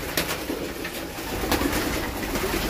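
Racing pigeons released from their cage coo and flutter close by, with a continuous rustle of wings and bird movement throughout.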